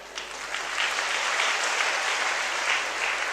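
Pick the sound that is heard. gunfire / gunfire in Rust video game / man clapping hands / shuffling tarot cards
man clapping hands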